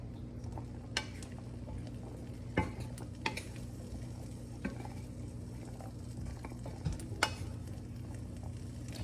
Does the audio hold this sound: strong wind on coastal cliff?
no